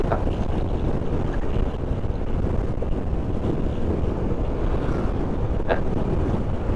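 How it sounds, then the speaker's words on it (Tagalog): Steady roaring wind rushing past a moving vehicle on a road, loud and constant, with a faint whistling edge and no voices. "sumisipol na yung hangin"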